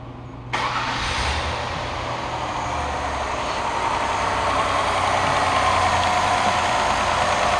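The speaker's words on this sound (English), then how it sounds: "I'm going to go and start the engine" An engine cranks and catches after a brief quiet start, then settles into a steady, close idle with no voices.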